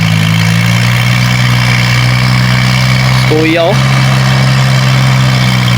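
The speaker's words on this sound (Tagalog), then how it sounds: "medyo gamay makina ng kubuta kay magugong-ugong ang iyang andar" A Yanmar harvester engine idling loud and close with a steady low drone, while a man calls out briefly over it.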